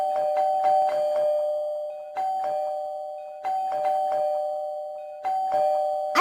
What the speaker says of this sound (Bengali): একটু এত কলিং বেল দিতে হয় নাকি? এত বেল দেওয়ার কি আছে?